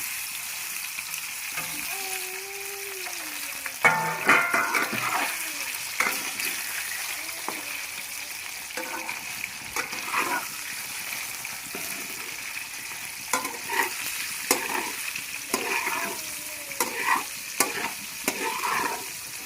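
Goat blood frying in oil in a pan, a continuous close sizzle broken by repeated stirring scrapes and clatters of a spoon, fairly loud and steady throughout, with no one talking.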